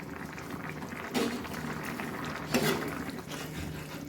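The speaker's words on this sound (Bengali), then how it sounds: "ঝোলটা ফুটে উঠেছে" Fish curry gravy with potatoes bubbles and boils in a pan, a steady close simmering burble with two brief louder bursts, no voices over it.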